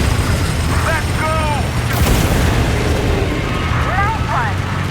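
A main cannon fires in a film, a heavy boom and explosion bursting out midway through a dense battle soundscape with whistling shots and people shouting around it.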